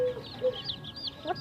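Mother chickens give a few short, sharp clucks and squawks close by while being fed, brief and unbroken by speech.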